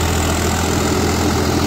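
Swaraj 744 XT tractor, a 50 HP model with high-low-medium gearbox, runs an 8-foot Param rotavator through soil, giving a steady, loud low engine drone with no pauses.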